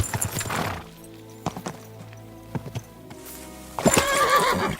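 A horse in the video game Kingdom Come: Deliverance II whinnies loudly at the start and again near the end, with scattered hoof clip-clops between the calls.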